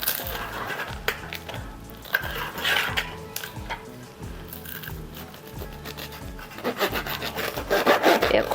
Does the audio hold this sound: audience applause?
no